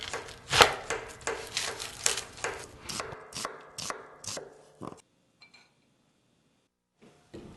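A knife chops through a quarter of a red onion on a board, about a dozen crisp, evenly spaced knocks close by, then a pause with a few faint clicks after.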